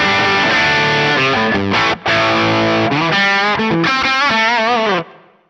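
Electric guitar played through a NuX MG-30 with a dark reverb and shortened decay: loud, distorted sustained notes and chords that shift several times, ending in a brief reverb tail that fades quickly.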